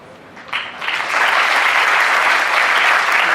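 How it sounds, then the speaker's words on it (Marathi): An audience claps for a student honoured for her exam marks, the applause swelling from a light start into a loud, sustained, dense wave of hands filling the room. "तिच्याकरता अजून एकदा आपण जोरात टाळ्या वाजवायच्या आहेत."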